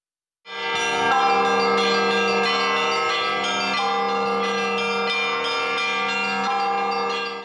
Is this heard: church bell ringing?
yes